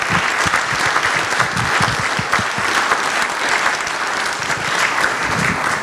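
Steady round of applause from an audience at a Sanibel hurricane preparedness meeting, dense clapping held at an even level for about six seconds with no talk over it.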